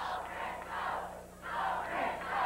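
A wrestling arena crowd at a 1988 Stampede Wrestling show roars in rising and falling waves of cheering and shouting, loud and massed, swelling three times in a few seconds.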